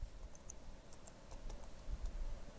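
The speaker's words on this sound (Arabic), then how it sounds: "نكتب الايميل، لازم يكون صح" Someone types an email address on a computer keyboard with light, scattered key clicks, faint and close, against a quiet room hum. No one speaks.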